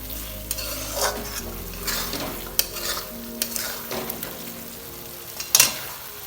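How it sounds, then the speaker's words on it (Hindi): Masala and eggs frying together in a pan for egg loncha, with a steady sizzle under repeated scraping stirs of a spatula and a few sharper clinks against the pan. "अब अंडों के साथ मैं इस मसाले को थोड़ा सा फ्राई करूंगी"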